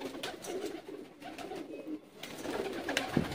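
Female Ferozpuri pigeons coo softly and repeatedly at close range, with soft rustling between the calls.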